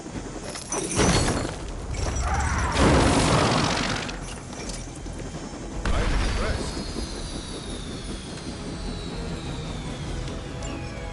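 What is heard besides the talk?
helicopter being shot down in Midnight Suns video game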